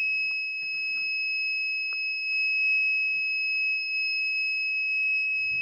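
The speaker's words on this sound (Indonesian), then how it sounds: "buzzer ini bunyi ya. Ini tandanya ini ada gempa atau ada gerakan" A homemade vibration-triggered earthquake alarm built from a magnet and an old can sounds a steady, piercing electronic buzzer tone, loud and continuous throughout, with faint rattling and handling noises beneath.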